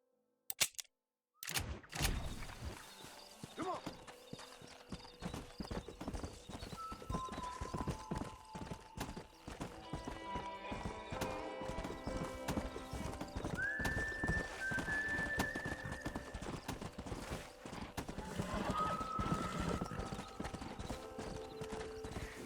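Horse hooves clip-clop at a steady gallop in the Red Dead Redemption video game, with a whinny and scattered game sounds over the continuous hoofbeats.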